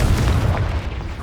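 A Confringo explosive spell blast in Hogwarts Legacy, heard as a loud, dense low boom with a rumbling tail that stays strong for the whole second.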